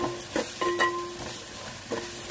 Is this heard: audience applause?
no